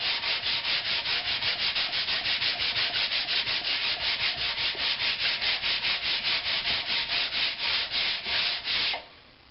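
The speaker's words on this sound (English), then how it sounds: "So some fine sandpaper" Fine sandpaper rubs back and forth over the wood of a Kalamazoo amp cabinet in a steady, fast rhythm of close, loud strokes that continue alone for about nine seconds before stopping.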